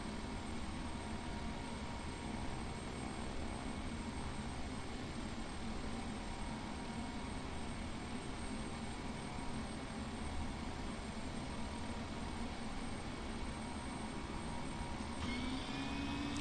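Cessna light aircraft engine on approach, a constant loud drone and cabin rumble filling the whole stretch with no pauses, and a slight shift in tone near the end.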